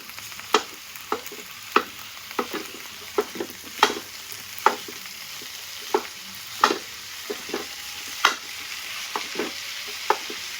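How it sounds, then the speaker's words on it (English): Italian pork breakfast sausage frying in a pan while being broken up, with a soft continuous sizzle punctuated by regular sharp scraping and tapping strokes of a utensil, close and fairly quiet, no talking. "I'm using Italian pork breakfast sausage, or you can use regular pork breakfast sausage or ground beef, ground turkey, whatever your heart desire. Going to break the sausage."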